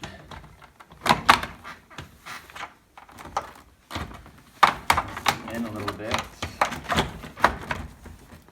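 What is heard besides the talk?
car door panel latching in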